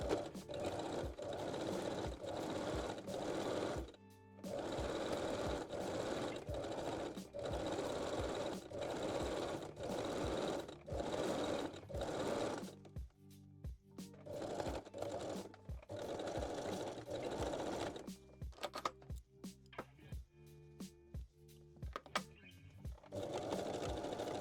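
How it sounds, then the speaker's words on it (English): A sewing machine runs close and steady along a panties crotch seam, its rapid needle chatter broken by brief pauses and short backstitch bursts. "And I am starting at the back crotch seam. Better to backstitch."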